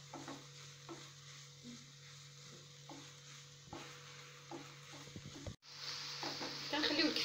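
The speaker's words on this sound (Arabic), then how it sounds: "غادي نخليها تشحر معها غير شويه نزيدها" Minced meat kofta sautés in a pan, giving a soft sizzle with intermittent stirring scrapes; the frying swells louder and brighter near the end.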